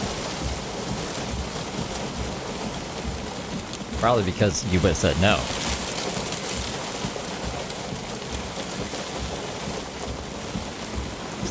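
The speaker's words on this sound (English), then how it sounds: "Just the rains. Sounds nice." Steady rain falls throughout, a dense broadband wash that stays even from start to finish, with a brief burst of speech in the middle over it.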